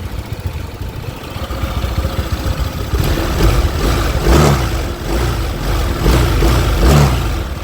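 Honda PCX scooter engine idling on a cement floor, a loud, continuous close-up rumble with rattling vibration and slight rises in engine speed.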